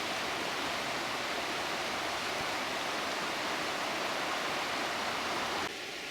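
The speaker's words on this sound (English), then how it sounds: "This is Skeeby Beck coming down here, which I've been following for hours. And this is the River Swale." Skeeby Beck, a stream, pours into the River Swale in North Yorkshire with a steady, dense rush of flowing water. The sound stays close and unbroken throughout, and no voices are heard.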